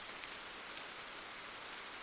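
Heavy rain pours in an animated Japanese folk tale about a kappa's rain prayer, a dense, loud, unbroken hiss of downpour with no voices.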